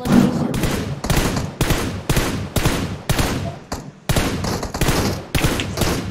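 Gunfire cracks close by in PUBG Mobile, with about eight loud bursts of rapid shots separated by brief pauses, each followed by a short decay.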